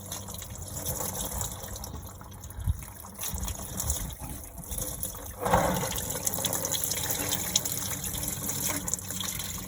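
Coolant drains steadily from the radiator of a Case 188D tractor after the radiator cap is popped, a continuous trickling and gushing of liquid close by that swells in the latter half, with no talk over it.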